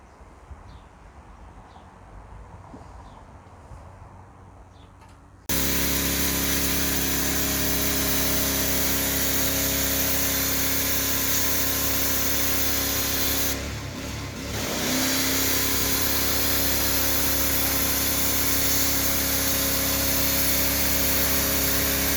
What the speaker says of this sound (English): So we use a pressure washer and we strip all the old finish off.